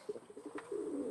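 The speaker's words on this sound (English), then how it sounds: "next we're going to check on the pigeons" Pigeons coo inside their enclosure at an exotic animal sanctuary, a short run of soft, close, throaty pulses ending in a sustained low coo, with no talk.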